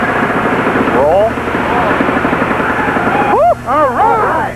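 Autonomous air vehicle hovering on its thrusters, a steady loud engine drone with rising and falling whining tones as it changes direction, heard under excited voices.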